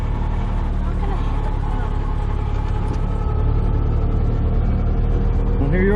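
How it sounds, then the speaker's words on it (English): A 1972 Fiat 500 with a manual gearbox drives along, its small engine giving a steady, loud drone with road noise throughout. "Driving the 72 Fiat 500."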